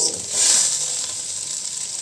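Egg and green pepper stir-frying in oil, a brief hissing sizzle that swells for a moment and then settles into a steady crackle.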